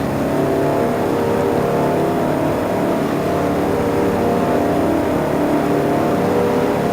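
Race trucks roar around Daytona in NASCAR Racing 2003, a dense, continuous engine drone with shifting revs as the pack runs close together, loud and steady throughout with no talking.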